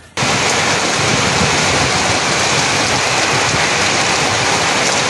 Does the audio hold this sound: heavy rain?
yes